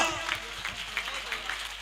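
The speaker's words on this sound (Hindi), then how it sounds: "एक बार जोरदार तालियां" An audience in a hall applauds loudly at an event, a steady wash of many hands clapping at moderate distance that holds for the whole stretch without a break.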